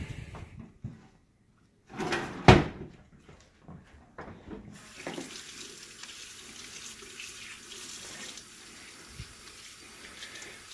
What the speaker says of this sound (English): now I'm going to take a towel, and I'm going to wet the towel